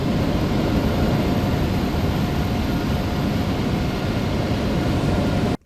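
Steady, loud broadband roar of a simulated aircraft engine in Microsoft Flight Simulator, engine 1 being shut down, holding constant before cutting off abruptly near the end, with no talking.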